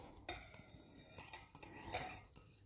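A spoon stirs Mongolian beef in a pot, giving soft scraping and a few sharp metallic clinks against the side, quiet and close with no talking.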